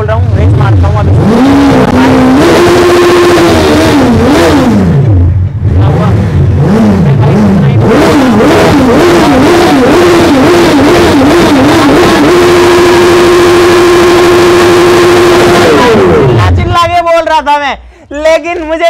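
Suzuki Hayabusa motorcycle engine, just started after being vacuum packed, revs repeatedly from idle with rising and falling whines, then holds a steady high rev before cutting off; loud and close, with someone talking over it.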